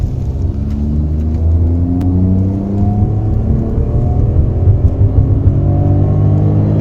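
A Ford Figo automatic hatchback's 1.2 litre petrol engine accelerating hard in sports mode, a loud close whirring rumble rising steadily in pitch through each gear, with no talking.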